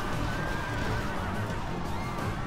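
Cavalry horses in the Rome: Total War battle game neighing amid a dense, loud battlefield din of clashing and rumbling crowd noise, with a thin whinny rising faintly above the constant wash.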